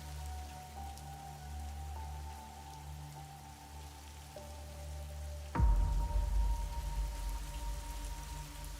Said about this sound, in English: The rain in these parts of the country can last for days.